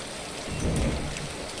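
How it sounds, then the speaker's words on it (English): Rain pours steadily with a low rumble swelling briefly in the middle, a dense hiss on a surface that stays loud from start to finish without speech. "that rain sounds so good"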